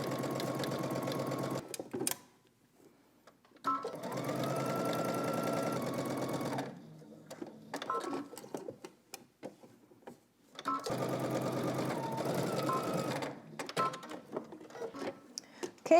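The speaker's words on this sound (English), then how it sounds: "let's head to the sewing machine. We're gonna stitch using 5/8 of an inch seam allowance" A sewing machine stitches the sides and top of a wrap-dress collar at a 5/8-inch seam allowance, running in three steady bursts of a few seconds each, separated by quiet pauses.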